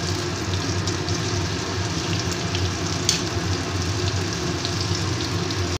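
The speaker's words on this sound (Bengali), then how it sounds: "এবার বেগুনগুলোকে আস্তে আস্তে আমি ভেজে নেব।" Batter-coated stuffed eggplant slices fry in oil over a lowered gas flame, giving a dense, steady crackling sizzle that fills the whole stretch without a break or any voices.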